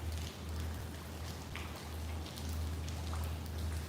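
Steady rain falls during a flood in Tokyo, a soft, even patter of drops on surfaces with a low rumbling undertone, fairly faint and continuous with no voices.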